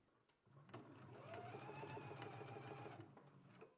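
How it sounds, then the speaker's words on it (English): A sewing machine runs steadily for about three seconds, its motor humming with a rapid stitching rattle, close by and fairly quiet. "let's head to the sewing machine and let's go ahead and stretch the waistband while we sew"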